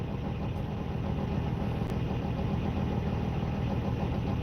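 A truck engine idles steadily close by, a constant low rumble with no change in pitch or speech over it.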